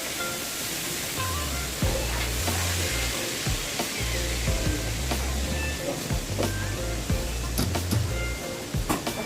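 Food frying in a pan at home during dinner preparation, a steady close sizzle and crackle that runs without a break, with faint clinks and a low hum underneath.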